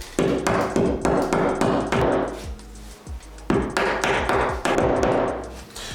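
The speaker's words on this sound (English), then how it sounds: "And you just want to tap those in." Repeated sharp hammer taps driving wall anchors into bathroom drywall, in two quick bursts of about a dozen hits each with a short pause between, close and fairly loud.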